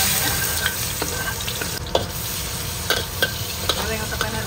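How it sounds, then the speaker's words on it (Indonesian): Vegetables stir-fried in oil left over from frying fish, with steady sizzling and the scrape of a utensil stirring the pan in intermittent strokes, close and continuous. "Jadi kita pun masih pakai minyak yang kita goreng ikan untuk goreng sayur lah."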